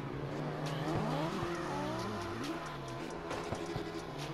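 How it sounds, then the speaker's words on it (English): A soft, low engine hum from the Lamberjack in CarX Drift Racing Online, steady and subdued, with faint tire and road noise shifting as the car drives. "The engine sound for the Lamberjack is ultra quiet."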